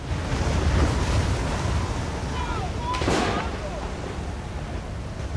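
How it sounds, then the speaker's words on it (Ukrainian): Steady roar of wind and crashing waves, loud and continuous, with a brief surge of rushing noise partway through. "Його кидали хвилі, подув супротивний вітер."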